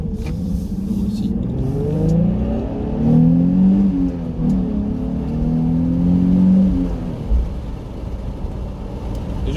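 Heard from inside the cabin, a Nissan 350Z's engine climbs in pitch under acceleration, then drops and pulls again as it shifts into third, a steady loud drone throughout.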